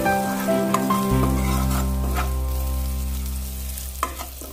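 Garlic frying in a pan until reddish, giving a loud continuous sizzle with a low steady hum underneath and a couple of light stirring taps, close up and without speech.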